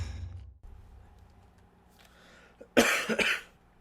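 A game character in Uncharted 2: Among Thieves gives a short burst of loud, close coughs near the end, after a quiet stretch with faint low background ambience.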